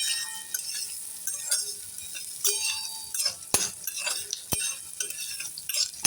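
Onions, green chillies and turmeric for methi bhaji sautéing in a pan, a steady bright sizzle with spoon scrapes and a couple of sharp metallic clinks against the pan, close and continuous with no talking.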